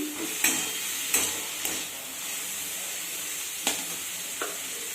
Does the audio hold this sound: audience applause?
no